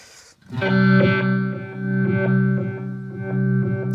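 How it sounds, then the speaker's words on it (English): Electric guitar sustaining a chord through a Chase Bliss Audio Wombtone MKII phaser pedal, its tone sweeping in a slow, rhythmic swirl with light repeated picking, loud and close with no talk. "now we've got the phaser back in again."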